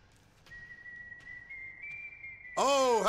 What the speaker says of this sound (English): how creepy does that whistle sound in the echo?